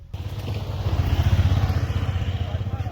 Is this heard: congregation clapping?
no